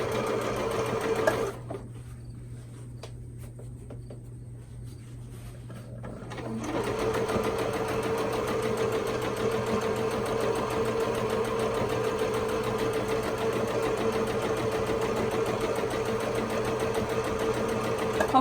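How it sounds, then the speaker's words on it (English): A sewing machine stitches a dress side seam right beside an invisible zipper, running in a steady continuous whir that starts after a short pause and carries on at an even, close level to the end. "Go as close as I can to the zipper without sewing over it."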